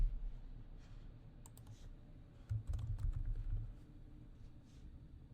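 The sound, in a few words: typing on a computer keyboard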